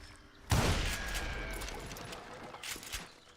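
Gunshots ring out in a loud, sharp burst that decays into a lingering rumble. A second, smaller burst of gunfire follows near the end.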